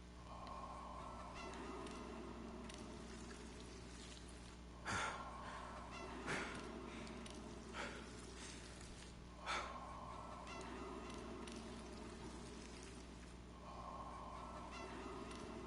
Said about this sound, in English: Okay, then we have chickens.